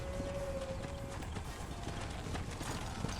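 Horse hooves clip-clop quietly in Red Dead Redemption on a ranch, a soft steady trot set against a constant low outdoor ambience with a faint tonal hum early on.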